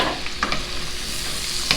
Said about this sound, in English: now we're going to add our mushrooms